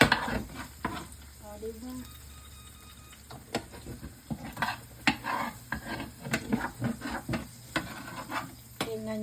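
Sauce cooking in a pan for creamy alfredo pasta, with steady sizzling and repeated scraping, clinking stirs of a utensil against the pan, and a brief spoken word from the cook.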